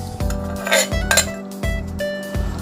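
Metal utensils clink and scrape rhythmically against a metal bowl, with regular knocking strokes as rice noodles and spicy papaya-salad ingredients are stirred close by.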